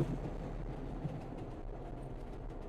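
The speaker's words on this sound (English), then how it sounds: "Wow, that train came out of nowhere, huh?" A train passes at a distance, a faint, steady low rumble with some wind noise, heard on its own without voices.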